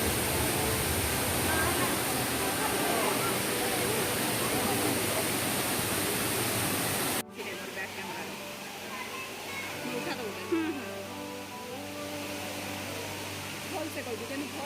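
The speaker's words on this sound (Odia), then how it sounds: "ନିର୍ମଳ ଆଉ ଥଣ୍ଡା ପାଣି କୁଳୁ କୁଳୁ ନାଦରେ ବହି ଯାଉଛି" Clear cold water gurgling and rushing at Pradhanpat waterfall in Deogarh, Odisha, a loud steady broadband roar for the first half that drops abruptly to a softer flowing wash with faint background sounds.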